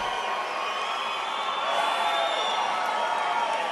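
A large crowd at a political rally in Greeley, Colorado roars and cheers continuously, a dense wash of voices and whoops that stays loud and steady throughout.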